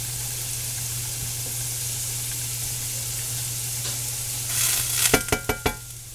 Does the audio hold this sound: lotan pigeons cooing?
no